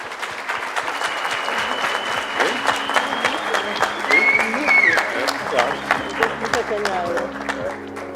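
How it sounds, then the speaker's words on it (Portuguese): Sustained applause from a ceremony audience at a closing event, dense steady clapping that fills the whole stretch, with a voice briefly heard over it. "peço a vocês uma salva de palmas para Isabela Teixeira"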